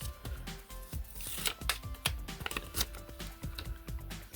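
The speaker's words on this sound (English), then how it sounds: "is putting these lovely stickers on" Stickers peeled from a backing sheet and pressed onto a Hachette build-it-yourself model Routemaster bus, giving close, quiet crackly rustles and soft taps in an irregular rhythm with no talk.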